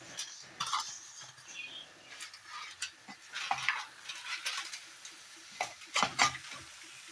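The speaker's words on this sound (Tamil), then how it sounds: "இப்போ சர்க்குலரா மிக்ஸ் பண்ண போறேன்." Rice being stirred in a pot for chicken thokku biryani, with soft scraping and shuffling strokes in an irregular rhythm, close and fairly quiet, with faint sizzling beneath.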